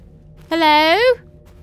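A single loud, wavering cat-like scream rises and falls for about half a second in the horror game Mimic Search, standing out against a low, quiet hum.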